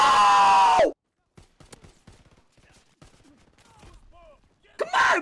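Weak, thin gunfire from a DLC weapon in Call of Duty WW2, a quick string of light sharp cracks with faint mechanical clicks in between, framed by loud bursts of game sound at the start and end.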